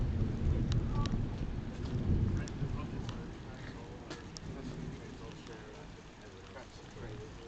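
Thunder rumbles low and heavy beneath steady rain during a thunderstorm at Northallerton railway station, a continuous wash of rainfall and distant rolling booms filling the scene.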